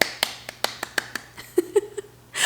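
A quick series of small, soft hand claps, like a seal clap, about eight to ten sharp pats in an uneven rhythm, close by in a quiet room, followed by the start of a voice.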